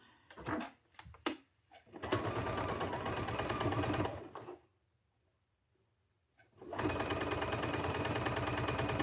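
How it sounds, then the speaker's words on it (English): Small fabric pieces for a cow-themed quilt block are stitched down on a sewing machine: short starts and stops, then two long runs of rapid close stitching with a quiet gap between them. "We'll sew it down."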